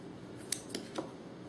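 Dough for T-rings being cut in a kitchen, giving three short, soft crisp snips in quick succession against quiet room tone.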